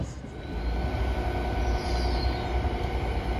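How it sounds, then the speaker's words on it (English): Merseyrail class 777 electric train departing, a steady low rumble of wheels and traction with a faint high whine sliding across, heard from the platform at moderate distance. "There goes that 777 back out to Liverpool, Manchester."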